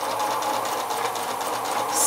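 A sewing machine stitches a quarter-inch seam on a log cabin quilt block, a loud, rapid, steady mechanical whir and chatter close by, with no talking.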